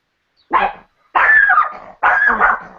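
A pet dog indoors gives three loud, close barks in quick succession, the first short and the next two longer and harsher, with silence between them.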